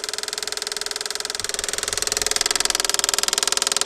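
An old Pontiac engine on an abandoned farm cranks on its starter in a fast, even rhythm of pulses that grows louder and quicker, close and unaccompanied.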